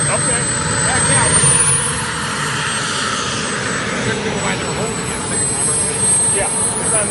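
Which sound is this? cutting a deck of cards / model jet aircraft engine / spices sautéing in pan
model jet aircraft engine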